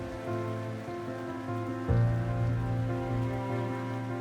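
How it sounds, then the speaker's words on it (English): Steady rain patters on the roof of an old vintage houseboat on a lake in the early morning, continuous and moderately close, no voices. "सुबह almost 5 बजे से it's been raining non-stop"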